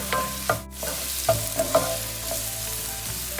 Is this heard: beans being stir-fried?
yes